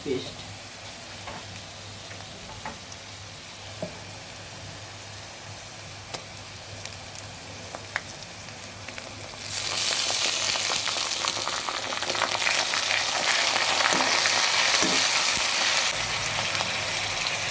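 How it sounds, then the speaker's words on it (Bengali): Oil in a pan crackles quietly at first, then swells into a much louder, dense sizzle about halfway through as onion goes in for a mutton curry, continuing steadily with no talking. "সব কিছুই ভালোভাবে ভেজে নেব পাতা পেঁয়াজ রসুন ভাজা হয়ে গেছে এবার দিয়ে দেব পেঁয়াজ"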